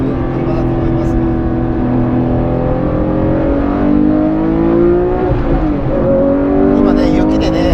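A Porsche 911 R driven in sport mode on a half-wet, snowy road, its engine note rising and falling steadily from inside the car, with someone talking throughout.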